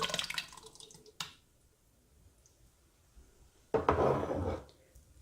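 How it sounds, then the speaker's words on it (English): Crushed tomatoes from two cans going into a pot, with thick wet splats and plops in two short bursts separated by a quiet gap, up close and fairly faint. "I'm going to add my 2 cans of the crushed tomatoes."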